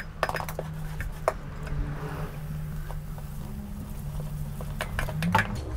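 Fried-onion batter being whisked by hand in a bowl as ice-cold soda water is poured in, giving quick scraping clinks of the whisk against the bowl over a steady low hum, close and moderately loud.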